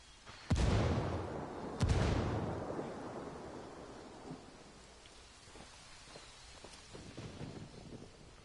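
Two heavy frag grenade blasts in Ghost Recon Wildlands land about a second apart, each a loud booming crack that rolls off into a long rumbling decay, followed by fainter scattered gunfire and battlefield noise.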